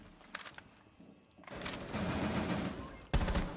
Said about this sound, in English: it was a hell of a headshot from the hip